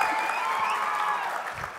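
Dense, steady applause from a large audience at a Telugu movie audio launch, continuous and fairly even throughout, easing slightly near the end.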